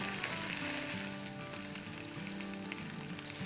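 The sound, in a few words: tandoori chicken sizzling as it is mixed after barbecuing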